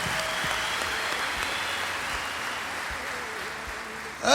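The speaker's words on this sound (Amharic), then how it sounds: "አንድ ጊዜ አጨብጭቡላቸው" A church audience gives sustained, steady applause, a dense wash of clapping that holds level for about four seconds, with no voices over it.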